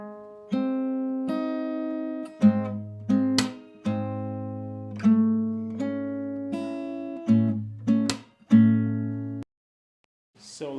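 Fingerstyle acoustic guitar playing a Hindi song, with plucked bass notes and melody in a steady pattern of phrases and brief gaps, close and clear without talk, ending in a short pause.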